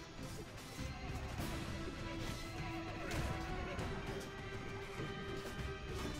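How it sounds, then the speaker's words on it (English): In the Warband mod A Clash of Kings, a horse neighs loudly while hooves pound close by amid battle crashes and clatter, with no talk. "Oh, I just got run over by a horse."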